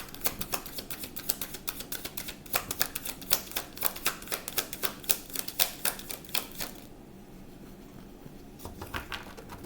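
Rapid crisp flicking and riffling of tarot cards, steady patter for several seconds, then a pause and a few final taps, close and fairly quiet.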